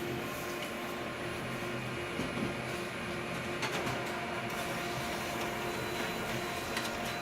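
A laser printer runs steadily while printing an electrician's flyer, giving a continuous whirring mechanical drone with faint clicks and a few brief louder ticks, close by and with no voices.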